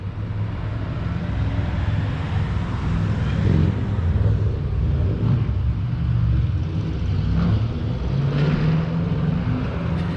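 A V8 car engine drives at a steady distance, a continuous low rumbling drone that holds even throughout, moderately loud and with no talk over it.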